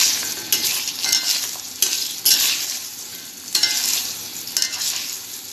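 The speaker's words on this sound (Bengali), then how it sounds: "আমি মাছ ভাজার তেলে চাল কুমড়োগুলো ভেজে নেব লাল লাল করে।" Pieces of ash gourd frying in oil previously used for fish, a steady close hiss and sizzle with periodic bursts as the pieces are stirred.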